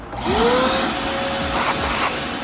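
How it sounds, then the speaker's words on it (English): A vacuum cleaner whirs up to full power and runs steadily nearby, sucking debris out of a BMW M5 drift car, its high whine loud and constant with faint rattles of debris. "So I have the vacuum here, and I'm gonna suck it out."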